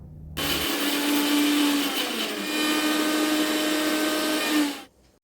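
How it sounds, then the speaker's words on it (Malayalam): A mixer grinder grinding garlic and red chilli whirs loudly and steadily for about four seconds, then winds down and stops, with no voices. "മിക്സിയുടെ ജാറിലേക്ക് തൊലിയുരിച്ചെടുത്ത് കുറച്ച് വെളുത്തുള്ളിയും ഇത്തിരി ചുവന്ന മുളകും കൂടി ഇട്ട് അരച്ചെടുക്കാം."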